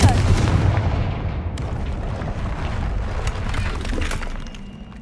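Confringo fire-blast spell exploding in Hogwarts Legacy, a sharp loud burst at the start rolling into a dense, rumbling roar that slowly fades over several seconds.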